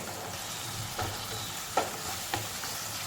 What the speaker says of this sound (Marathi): एक चमचा आलं लसूण पेस्ट त्या त्याला व्यवस्थित परतून घ्यायचे